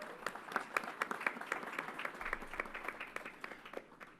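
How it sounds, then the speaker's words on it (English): An audience applauds for a speaker at a government announcement at Yankee Stadium, with dense, overlapping clapping that holds steady throughout, moderately quiet and somewhat distant. "Let's give her a round of applause"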